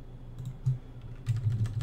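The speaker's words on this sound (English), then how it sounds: "hit space, and this is where you'll start typing in" Keys clack on a computer keyboard in short bursts, a few isolated taps followed by a quicker run of keystrokes, close and fairly quiet with no talking.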